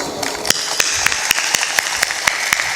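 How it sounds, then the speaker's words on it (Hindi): An audience at a spiritual discourse claps together in a slow, even rhythm, sharp synchronized hand claps repeating about every quarter second over a low murmur of the crowd. "तालियां थोड़ा जोर से पीटो।"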